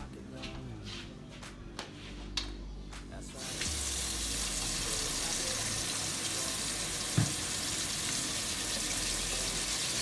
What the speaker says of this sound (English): I'm gonna film it as I wash my hands so there's no cut feed